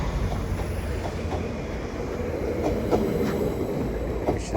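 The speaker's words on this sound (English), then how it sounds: "Now heading off is 755-337 on the 1358 Greater Anglia service to Felixstowe." A Greater Anglia Class 755 train pulls away from Ipswich station on a Felixstowe service, a steady rumbling roll with faint rhythmic wheel clicks building slightly, heard from the platform without voices.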